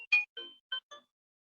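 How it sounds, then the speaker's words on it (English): A phone ringtone plays as a short melodic series of five clean electronic tones in a quick rising-and-falling pattern, alone in silence before fading out. "It's a very nice ringtone, to be very honest."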